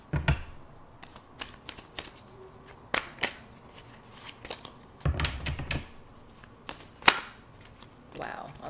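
Tarot cards being shuffled and flipped during a love reading, heard as a run of sharp, close snapping flicks and slaps scattered irregularly through the quiet, with a few louder bursts.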